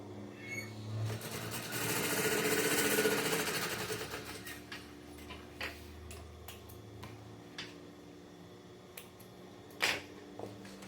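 A sewing machine stitches EVA foam right along the edge of a zippered cosmetic bag in a fast buzzing run, followed by scattered clicks and taps as the work is handled.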